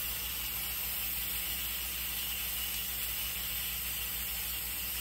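Steam venting from a pressure cooker as it releases pressure, heard as a steady, moderately faint hiss that holds constant for several seconds with a low mechanical hum beneath it.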